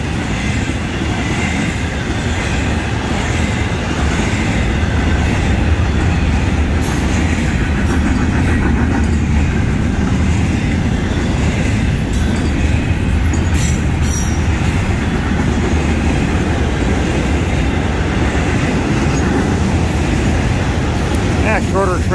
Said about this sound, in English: shorter train than I thought.